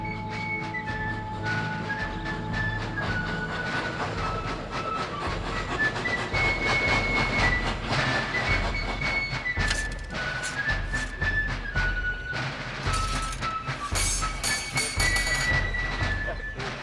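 A World War I–era steam train rolls along the rails with a continuous rumble and clattering wheel noise, mixed with hissing and intermittent sharp metallic squeals and whistling tones, loud and close.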